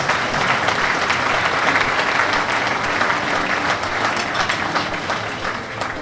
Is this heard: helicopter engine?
no